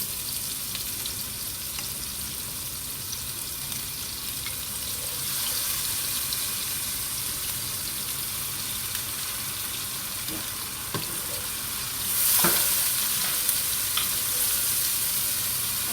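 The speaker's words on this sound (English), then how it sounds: "So you will be adding 4 tablespoons of the pasta sauce." Pasta sauce sizzles and frying in a hot pan while being stirred, a steady hiss with a few light scraping clinks near the end, no talking.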